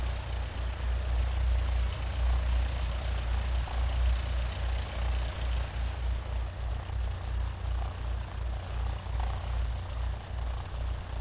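Cessna 152 engine droning steadily at low power during a slipping approach on a very short base, rendered in a flight simulator; a continuous, even hum with no talk over it.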